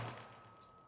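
A single shot from a Springfield XDM Elite 10mm pistol firing Federal Premium 200 grain solid core ammo rings out faintly and decays quickly, with a thin steady tone lingering beneath.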